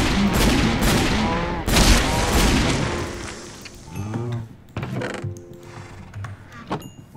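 Golden Revolver from the Tech Guns mod firing in Minecraft, with loud sharp shots bursting in the first seconds and further clanking, mechanical in-game effects and lighter pops following.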